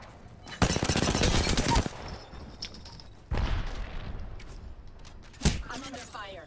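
Rapid bursts of automatic gunfire in an Apex Legends match, with a dense volley up front, another burst midway and a short crack near the end, mixed with game sounds and talk.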